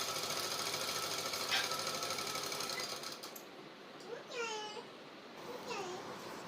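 A sewing machine stitches baby suit fabric in a continuous whirring run for about three seconds, then fades as a voice speaks over the quieter remainder.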